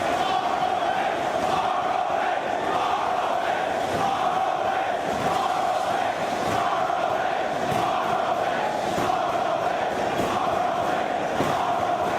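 A large wrestling crowd at ROH Death Before Dishonor IV roars and cheers in a steady, dense wall of noise for the whole stretch, with shouts and swells rising through it and no clear speech on top.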